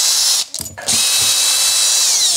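A power tool spins out screws from a Makita DDF 486 cordless drill with an electronics fault, a loud close whine that cuts out briefly, gives a few ratcheting clicks, then runs steadily again.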